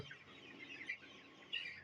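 A desi rooster gives faint, short clucks at close range, with a couple of louder bursts near the end against quiet background noise.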